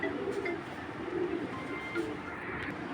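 Soft, low cooing of a pigeon feeding its chick repeats in gentle murmuring phrases against a faint background hum.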